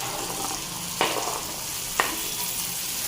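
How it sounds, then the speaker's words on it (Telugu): Pumpkin pieces sizzle steadily in a hot pan for a curry, a constant bright frying hiss with two sharp clinks of a spoon against the pan about a second apart. "గుమ్మడికాయ ముక్కలు కూడా వేసేస్తున్నాం."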